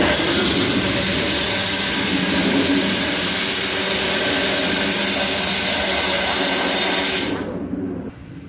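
A kitchen mixer whirs steadily, blending mango milkshake with milk in a loud continuous drone that cuts off abruptly near the end.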